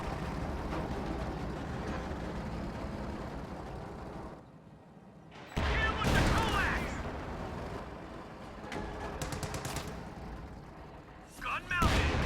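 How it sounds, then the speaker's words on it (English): A .50 cal machine gun mounted on a Sherman tank fires in a World War II strategy video game match, rapid loud bursts and booms mixed with battle noise, with voices talking over it. "throwing a 50 cal on there"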